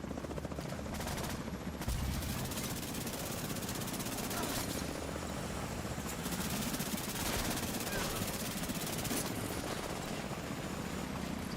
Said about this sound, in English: here come the helicopters